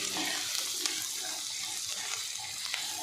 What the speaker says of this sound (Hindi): ਕੜਾਹੀ ਦੇ ਵਿੱਚ ਤੇਲ ਪਾ ਕੇ ਤੇ ਪਿਆਜ਼ ਪਾ ਕੇ ਤੜਕਾ ਤਿਆਰ ਕਰਿਆ